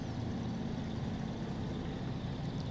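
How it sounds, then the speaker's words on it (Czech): A truck engine in the video game SnowRunner, played on The Near North mod, rumbles with a deep, steady, burbling tone, close and unbroken, heard alone. "No, má krásný zvuk motoru tohle auto."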